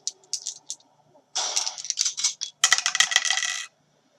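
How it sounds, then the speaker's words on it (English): Two dice rattle and clatter onto a tabletop for the Resident Evil 2 board game: a few light clicks, then two longer bursts of tumbling clicks that stop abruptly, close and clear, with no talking. "With the shotgun, we get to roll 2 dice"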